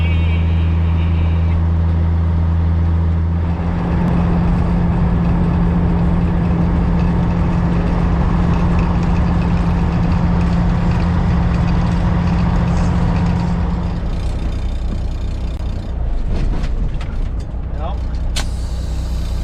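A Kenworth K100E Aerodyne cabover truck with an RTO-14713A transmission rolls down a straight country road, its loud engine drone and low rumble steady throughout, with a gear change shifting the tone partway and some knocks near the end.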